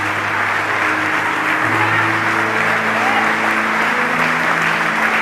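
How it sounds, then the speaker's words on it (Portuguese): A church congregation applauds steadily through a Portuguese-language service, loud sustained clapping over held keyboard chords that shift pitch partway through. "Você pode dar um aplauso a Jesus?"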